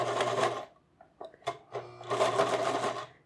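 A sewing machine stitching down bias tape, running in two close, loud bursts of rapid whirring stitches separated by a short pause with a few clicks.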